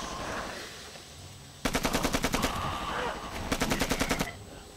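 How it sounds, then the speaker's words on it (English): AK rifle fire in the shooter game ShellShock 2, two loud bursts of rapid automatic shots, the first about a second long and the second shorter, over a low background rumble. "Switching to my AK!"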